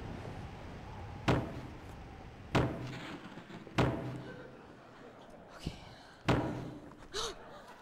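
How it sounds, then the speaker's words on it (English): Knocking on a door during a 2005 school stage show comes as several heavy, widely spaced thumps over a noisy hall background. "I'm gonna knock on the door."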